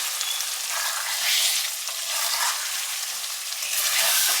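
Eggs stirred into frying masala for biryani in a pan, a continuous close hiss and sizzle with soft scraping from the stirring, swelling slightly a few times.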